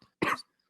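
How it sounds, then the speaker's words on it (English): A single short, sharp cough from one person, close and clear, preceded by a faint breath and followed by silence. "I'm still suffering from a cough."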